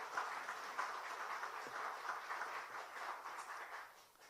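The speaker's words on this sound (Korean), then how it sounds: "우리 하나님 앞에 영광의 박수와 또 우리 할렐루야 성가대 격려의 박수를 한번 보내드리죠" A church congregation claps for God and the Hallelujah choir during a Sunday worship service, a soft, steady patter of many hands from a distance that fades slightly at the end.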